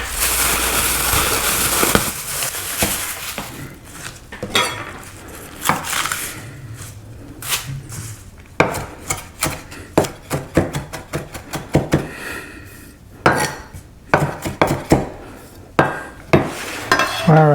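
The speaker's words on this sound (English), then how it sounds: "we're gonna cut up some cilantro" A knife chops fresh cilantro on a cutting board for camarones enchilados, with rapid, irregular bursts of sharp, close, loud knocks that come in clusters with short pauses.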